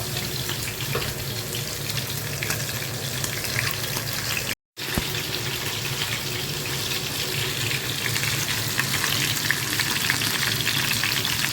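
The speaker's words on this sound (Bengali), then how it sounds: "হাঁড়িতে তেল দিয়েছি যাতে চিকেনটা ফ্রাই করার জন্য হালকা তেলে" Chicken frying in light oil in a pot gives off a continuous, dense, close sizzle that briefly cuts out and then resumes at the same steady level.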